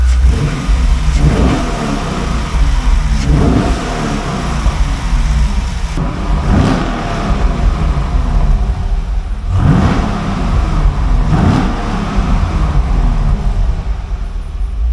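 The V8 of a 2013 Chevrolet Camaro SS with 8,200 miles runs loud and close. It is revved repeatedly over a steady idle, with rising and falling sweeps of engine pitch, and no one talks.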